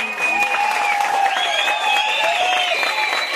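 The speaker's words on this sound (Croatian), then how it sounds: "Aplauzom pozdravimo naše mladence i" Wedding guests applaud the newlyweds at a 2006 wedding reception in Maglaj, a steady wash of clapping under a loud, sustained tonal sound, likely music.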